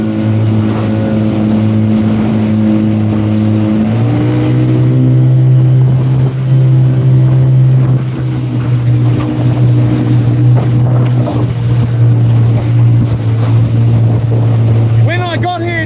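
Motorboat out fishing in Raglan accelerating on takeoff, a loud, close engine drone that climbs in pitch and holds steady, with wind and water rushing beneath and a voice talking over it.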